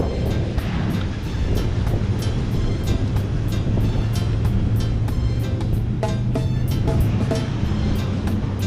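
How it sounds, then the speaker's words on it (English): Pacific surf breaks and washes along Jaco Beach in Costa Rica, a continuous roar of waves heard up close with wind buffeting the microphone. "So this is Costa Rica's beach on the Pacific coast."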